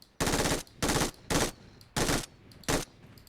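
Automatic gunfire in PUBG Mobile rings out in five loud sustained bursts separated by brief pauses, close and dominant with no talk over it.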